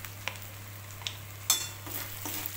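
Cumin and coriander powder masala sautéing in a pan for a doi katla fish curry, a soft low sizzle with scattered scrapes and clicks of a spoon stirring nearby.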